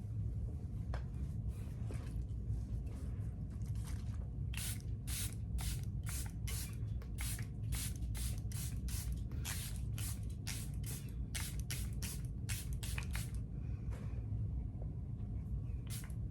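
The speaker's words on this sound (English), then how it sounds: "I'm going to spray it with setting spray just so it's not super dry." Repeated short bursts of a makeup setting spray pump misted over a freshly made-up face, a rapid series of close, crisp hisses in an uneven rhythm over a low steady room rumble, with no talking.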